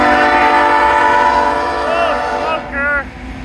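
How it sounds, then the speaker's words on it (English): A diesel locomotive passes close by with a loud, steady rumble. Its horn sounds in short wavering blasts near the end. "I've never been so happy to smell a diesel locomotive's smoke."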